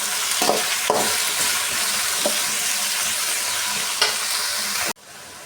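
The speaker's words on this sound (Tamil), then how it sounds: "கட் பண்ணி வச்ச ரெண்டு தக்காளியும் இது கூடவே சேர்த்துக்கணும் சேர்த்து நல்லா வதக்கி வச்சுக்கணும்" Onion, garlic, Cleome greens and chopped tomatoes being sautéed in a pan, sizzling and hissing loudly close up while a utensil scrapes and stirs a few times, before the sound cuts off abruptly near the end.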